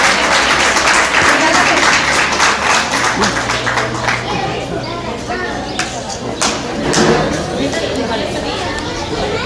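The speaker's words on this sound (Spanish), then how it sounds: "Fuerte el aplauso, por favor." An audience at a school coronation of kings and princesses, honoring a preschool princess, claps loudly in a dense burst that fades over several seconds, mixed with crowd chatter and voices.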